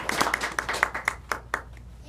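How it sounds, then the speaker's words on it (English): Small audience clapping for a student presentation, a short burst of distinct, individual hand claps at close range that thins out toward the end. "Give them a round of applause."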